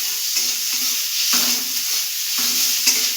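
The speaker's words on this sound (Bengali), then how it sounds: "আমরা অল্প তেলে পেঁয়াজটাকে ভেজে নেব।" Chopped onion fries with a pinch of salt in a little oil for a brinjal jhal, a steady close sizzle broken by several scraping stirs of the spoon, with no talking.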